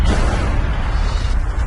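A deep, sustained roaring rumble of an explosive supervolcano eruption, loud and dense with heavy low-end energy, continuous without a break.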